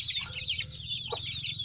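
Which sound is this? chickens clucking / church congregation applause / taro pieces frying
chickens clucking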